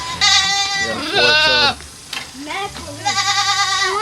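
Goats bleat loudly and close by, three long wavering cries with short gaps between them, over a faint background hiss.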